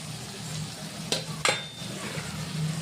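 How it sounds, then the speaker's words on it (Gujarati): Dal being added and stirred into dill greens (suva bhaji) in a pan for Gujarati shaak: a soft continuous sizzle with two sharp spoon scrapes against the pan. "એના પછી આપણે દાળ એડ કરીશું આ રીતે"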